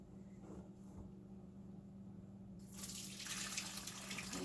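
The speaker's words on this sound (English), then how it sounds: "we're going to watch this water get poured out." Dark, dirty water from microfiber deep cleaning is poured out into a sink, starting as a faint trickle and then becoming a steady, louder rushing flow, with no talk.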